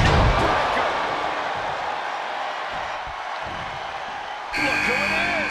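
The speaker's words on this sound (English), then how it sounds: "Just listen to the crowd." A video-game wrestling arena crowd roars steadily during a WWE 2K23 Elimination Chamber match. The roar holds fairly level throughout, then swells brighter and louder near the end.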